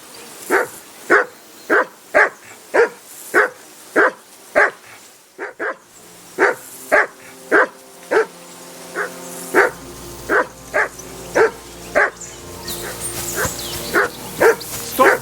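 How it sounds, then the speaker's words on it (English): A dog in the video game Kingdom Come: Deliverance II barks repeatedly in a steady rhythm of sharp, loud barks about every half second to second, close up, with faint ambient background. "Call off that mutt of yours!"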